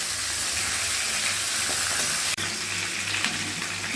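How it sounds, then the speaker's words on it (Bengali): Whole fish frying in hot oil for a Bengali muri ghonto, giving a steady, dense sizzle that runs close and continuous with one brief dropout midway. "মাছগুলো পুরোটাই দিয়ে দিলাম ভাজার জন্য"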